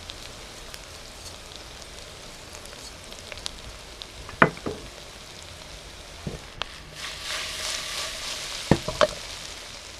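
Chili and sugar cooking down in a hot pan for a Thai-style crayfish curry: a faint, steady sizzle with occasional sharp clinks and stirring scrapes, and a louder burst of frying near the end.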